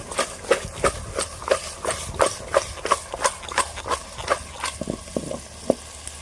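Country chicken fries in a pan while a spatula stirs and presses it in quick, steady, rhythmic scraping strokes, about two or three a second, close and clear over a soft background sizzle.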